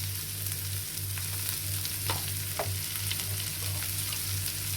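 Black-eyed pea snack fries in a pan with coriander and chili powder, a steady close sizzle under a low hum, with a few light stirring scrapes.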